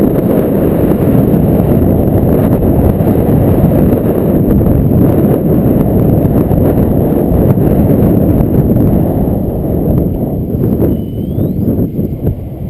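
Strong gusting wind batters the microphone outdoors during a 15–20 mph blow at a model helicopter flying site, a loud, continuous low rumble that holds steady for the whole stretch and eases slightly near the end.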